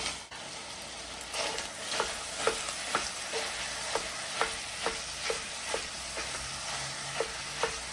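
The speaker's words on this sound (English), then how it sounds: "All right, breakfast sausage in the pot. We also have our turkey brown in the pan as well." Breakfast sausage and ground turkey brown in a pan, with a steady close sizzle broken by regular spatula stirs and scrapes, about one every half second.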